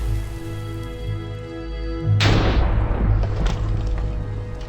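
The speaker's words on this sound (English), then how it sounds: "Even through the heavy rain and thunder" Heavy rain pours down with thunder, a low rumbling boom giving way to a loud, dense hiss of downpour that swells suddenly and stays steady to the end.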